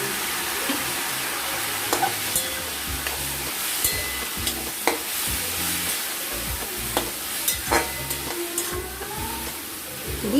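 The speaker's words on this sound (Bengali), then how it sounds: "দিয়ে এবার আমরা এটা নাড়াচাড়া করে নিলাম। এবার দিয়ে দিব মাছের তেলগুলো।" Fish oil curry with potato and pointed gourd sizzles steadily in a pan while being stirred, with sharp scraping clicks of the spoon scattered throughout.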